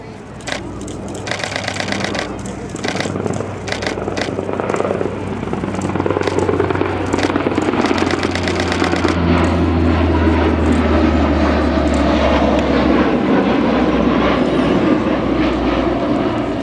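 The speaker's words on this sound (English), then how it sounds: "He's been cleared hot for flares, so we should get a good show here in a second." A military jet roars past at an air show releasing flares, with a loud sustained engine rumble and a rapid crackling train of pops early on, building into a heavy continuous roar.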